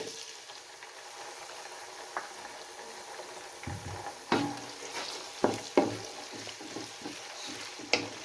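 Tomatoes and cumin fry in a pan over a low gas flame, a soft steady sizzle broken by several sharp stirring clatters and scrapes that grow busier toward the end.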